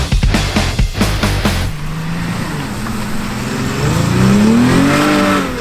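A 2017 Dodge Challenger GT AWD with a V6 engine is pushed around a track lap, loud revving bursts through quick gear changes settling into a sustained rising engine drone, close and alone.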